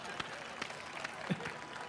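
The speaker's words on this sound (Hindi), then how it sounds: "तालियां बजा तो जरा" Clapping from a comedy audience, a few loose claps and a light patter of applause, fairly faint, mixed with some background voices.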